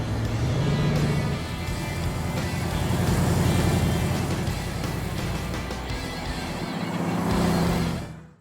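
A Baldwin Motion Mako Shark Corvette engine rumbles steadily and loudly throughout, with a surge of revving near the end before it cuts off.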